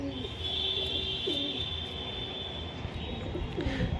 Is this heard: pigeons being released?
yes